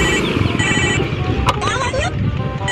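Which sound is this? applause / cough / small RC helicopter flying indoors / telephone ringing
telephone ringing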